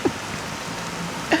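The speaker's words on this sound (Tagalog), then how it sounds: "Grabe, lakas ng ulan." Heavy rain pouring down outdoors on a roadside, a steady broadband hiss with no breaks, close and fairly loud, no talking.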